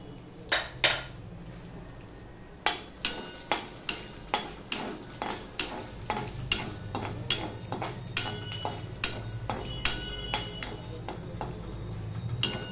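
Bay leaf, dried chili, cumin, cardamom and cinnamon sizzle in hot oil under a steady hiss, while a utensil clinks and scrapes against the pan in a regular rhythm, close and alone.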